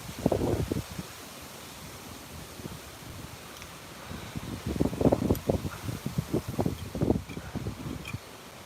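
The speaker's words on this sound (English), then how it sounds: "Wow, that wind." Gusty wind blowing outdoors at a digging site, rumbling and buffeting the microphone in bursts, with a strong surge in the second half and quieter stretches between.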